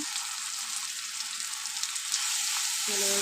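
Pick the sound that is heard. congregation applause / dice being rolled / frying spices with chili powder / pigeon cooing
frying spices with chili powder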